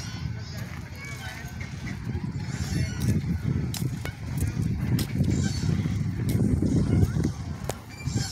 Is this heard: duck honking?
yes